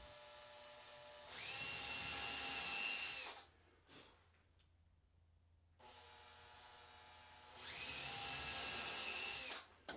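A power drill bores screw holes for hinge hardware, whining steadily in two sustained close bursts separated by a quieter gap with faint handling noise, no speech.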